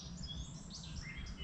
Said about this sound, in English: just the noise of the birds